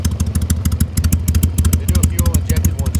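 A carbureted 2001 Harley-Davidson Sportster XLH883C V-twin idles up close, a loud, steady loping thump-thump rhythm with uneven pulses and mechanical clatter throughout.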